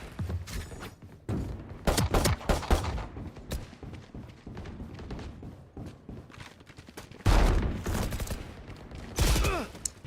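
Gunfire in the video game FragPunk, a dense run of loud shots and bursts over about ten seconds, with heavier blasts near the middle and end and occasional quieter gaps, game sound effects throughout.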